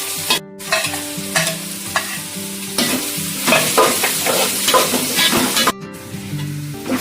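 Onions and green chillies are stirred and sautéed in a pan for a Kerala-style chicken perattu. A spatula scrapes and clatters in a steady rhythm over a constant loud sizzle, close up.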